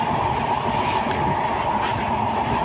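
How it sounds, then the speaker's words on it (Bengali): A passenger train in Bangladesh running from Khoksa to Dhaka rumbles steadily from inside the carriage, with a loud, continuous roar and a faint rhythmic clatter of wheels. "ট্রেন চলছে"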